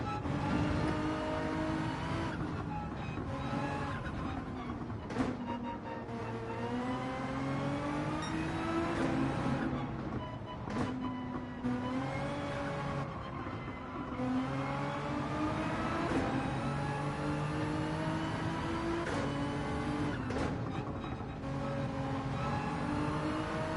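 Race car in Gran Turismo 7 at a World Manufacturer Cup qualifying race, its engine revving loudly and continuously through shifting gears, with brief tire slides and another car chasing along a back straight.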